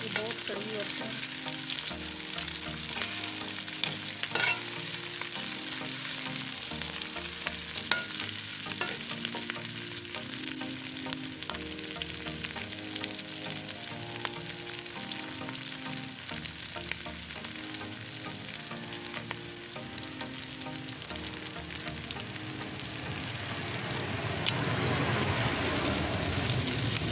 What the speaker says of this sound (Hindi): अब मैं सब्ज़ मिर्चें डाल दूँगी। थोड़ी सी भुनाई करूँगी